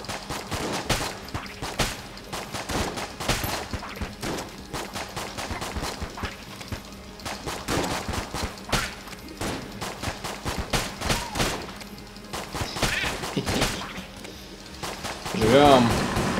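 Bursts of rapid gunfire from a boss fight in the Enter the Gungeon video game crackle in dense volleys, with a person talking over the shooting.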